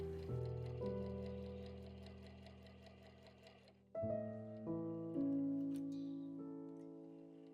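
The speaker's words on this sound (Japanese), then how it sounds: "周囲ぐるっと縫いますよ" A sewing machine stitches around the edge of a fabric bag with about a 1 cm seam allowance, humming quietly and steadily in two continuous runs separated by a short pause.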